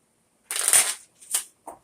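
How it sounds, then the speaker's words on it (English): A deck of playing cards being shuffled during a Texas Hold'em poker game: one long riffling burst followed by two shorter, softer bursts, close and alone with no talking. "I'm going to just keep shuffling these here"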